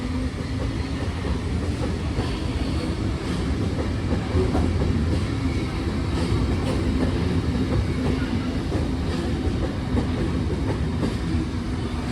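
A Munich U-Bahn U7 subway train rumbles steadily along the rails, a loud continuous low roar with faint rhythmic clatter from the wheels and no voices.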